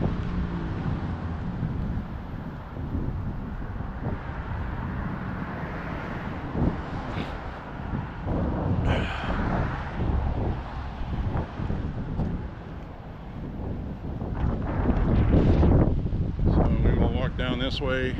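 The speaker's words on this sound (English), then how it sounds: "Coming up on 5 miles, this wind's really picking up." Strong wind gusting around a walker outdoors, a heavy low rumble of buffeting against the microphone that swells and surges, growing loudest near the end, with a voice faintly present.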